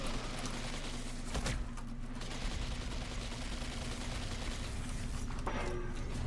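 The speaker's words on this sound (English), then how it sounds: "I hear the hand cannon." Hand cannon gunfire in the Destiny 2 video game, a few sharp shots cracking over a steady background game hum, with no talk.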